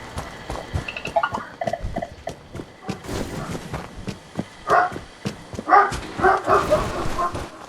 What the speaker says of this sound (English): Sorry about that. This is my dog.